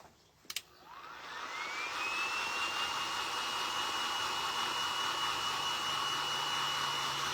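Hair dryer switched on after a couple of brief clicks, rising to a steady, loud whir and blowing continuously while drying a painted ladybug door hanger.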